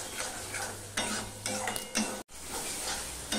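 Masala being stirred and fried in a pan for a pabda fish curry, with scraping strokes against the pan in a loose rhythm over a low sizzle, close and fairly quiet, with a brief dropout midway and no talking.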